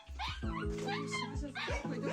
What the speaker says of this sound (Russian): Когда мы действовали оперативно и взяли щенка в руки, он начал настолько истошно кричать, что напугал мать и своих братьев, сестер.